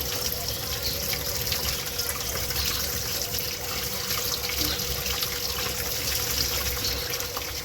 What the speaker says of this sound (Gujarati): અને હવે આપણે આને ઠંડા પાણીથી ધોવી લઈશું.